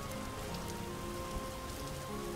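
Steady rain patters on surfaces in the survival game Vintage Story. The noise is even and continuous and hangs in the background with no voices over it.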